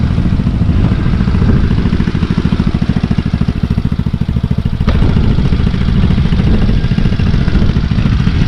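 A 125cc mini Jeep engine runs steadily through a small silencer, giving a close, continuous low rumble with a fast, even putter and some light mechanical clatter throughout.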